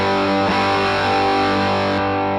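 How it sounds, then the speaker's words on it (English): An electric guitar through a drive pedal into an Electro-Harmonix Big Muff fuzz sustains a thick, saturated distorted chord, loud and close, holding steady for a couple of seconds as the sound rings out. "We get an idea of what it sounds like when it just goes drive with the 2-rock back over to the Big Muff."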